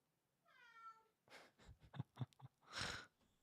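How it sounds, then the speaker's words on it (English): A sad cat lets out a faint, drawn-out meow, followed by a cluster of soft snorting and wheezing breaths and a final breathy puff, all quiet and close. "Oh, such a sad kitty"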